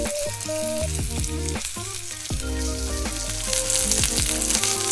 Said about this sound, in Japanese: フライパンを温めたらオリーブオイルを少し引いて、皮の面から手羽元を焼いていきましょう。